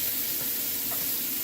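A ribeye steak sizzles loudly in a pan with browning onion, a steady close hiss of frying fat with faint stirring scrapes, no voices.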